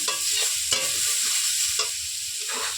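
Water spinach greens sizzle in a hot pan while a spatula stirs them, producing a constant frying hiss broken by several scraping, tossing strokes at uneven intervals. No talking.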